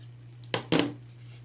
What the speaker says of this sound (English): I'm just going to cut off the ribbon at an angle and then just cut these tails just a little bit.